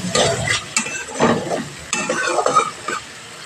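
Green peas being stirred and cooked in a wok for a vegetarian broccoli dish, with close bursts of stirring scrapes over a steady sizzle, no talk.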